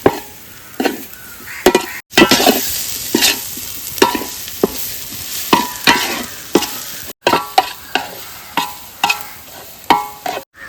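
A spoon scrapes and stirs through a thick tuna head curry with turmeric and fenugreek powder in a frying pan, with repeated uneven strokes and a soft sizzle underneath, close by.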